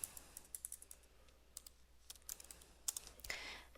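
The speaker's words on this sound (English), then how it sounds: "I'm going to type in rebuild" Typing on a computer keyboard in bursts, quiet scattered clicks of individual keystrokes with brief gaps, close but soft against a faint steady hum, with no voices.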